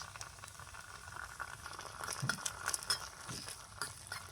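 Spices with ginger-garlic paste sizzle and bubble in a pan for egg biryani, a faint, continuous crackling fry with soft stirring touches.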